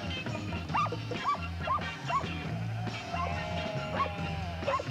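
Sheepdogs bark in repeated sharp bursts while a flock of sheep bleats nearby, the calls overlapping in a busy, close outdoor scene.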